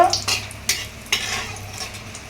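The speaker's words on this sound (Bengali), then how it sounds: "তেলটা গরম হয়ে গেলো এখন তেজপাতা আর শুকনো লঙ্কাটা দিয়ে দিল" Bay leaf and dried red chillies hitting hot oil in a kadai during home cooking, giving a steady close sizzle broken by several sharp hissing bursts with light stirring.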